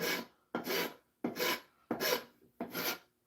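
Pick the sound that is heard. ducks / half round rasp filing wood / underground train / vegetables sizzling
half round rasp filing wood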